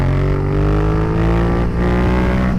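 A Yamaha FZ motorcycle pulls hard in third gear with a loud, dense engine drone. The engine pitch climbs steadily over a few seconds, and no voice is heard.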